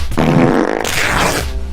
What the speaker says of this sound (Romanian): Nu da pârt!